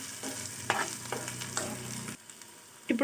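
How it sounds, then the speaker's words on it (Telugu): Dry red chillies, cumin and mustard seeds frying in oil for coriander chutney, a bright close sizzle with spatula stirring clinks that cuts off abruptly partway, then quiet with a final clatter. "ఎండుమిరపకాయలు జీలకర్ర ఆవాలు వేసి ఫ్రై చేసుకుందాం"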